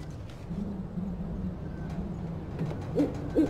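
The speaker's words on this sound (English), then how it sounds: "Barn owl. That's what I came out here for." A barn owl in Life Is Strange gives low, steady hoots over a quiet night background, followed by a couple of louder, sharper calls near the end.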